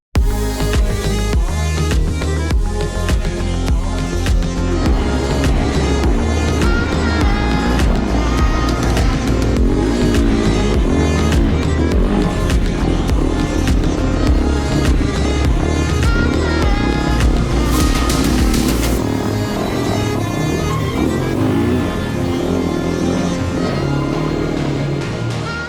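A 2022 Fantic 450cc XEF enduro motorcycle is ridden around a track. The engine drones loudly and continuously with shifting pitch as the rider accelerates and changes gear, and there is no talking.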